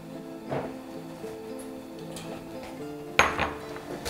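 A spatula stirs and breaks up eggs frying in rapeseed oil in a hot pan, making scattered metallic scrapes and clinks. A sharper clatter comes near the end, and no one speaks.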